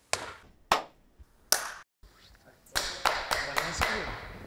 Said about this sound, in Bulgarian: Много пляскаш, бе, спокойно.